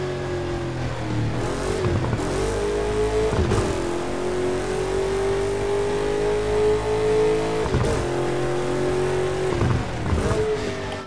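A car engine revs hard at the start of a race in Burnout Paradise, loud and continuous, with the pitch climbing and dropping through several gear-like surges over the length of the clip.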